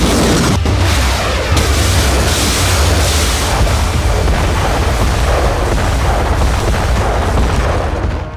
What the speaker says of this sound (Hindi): टैंकों और आर्टिलरी से भीषण बारूद बरसाया गया